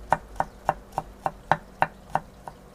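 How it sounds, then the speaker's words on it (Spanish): A knife finely chops fresh herbs on a cutting board: about ten sharp, evenly spaced taps in a steady rhythm, close and clear, with no talking. "así, picando muy chiquitito"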